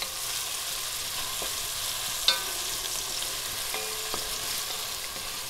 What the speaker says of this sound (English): So onions are cooking down. And once that gets like a little soft, we're just sauteing